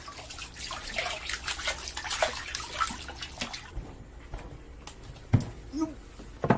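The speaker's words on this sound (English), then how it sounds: "Sangoro's wife, Chicano, washes the fish salted in spring." Salted spring fish are rinsed by hand in water at a Japanese house, with splashing and sloshing for the first few seconds, then quieter drips and a few sharp knocks and clatters.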